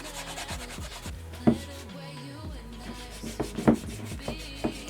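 A football boot rubbed with cotton wool soaked in acetone, giving soft, close scuffing strokes with a few sharper rubbing bursts, under a background hum.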